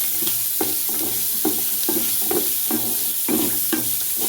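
Onions fry on a low flame for pirandai chutney, a continuous sizzle broken by regular scraping ladle strokes about every half second, close and alone.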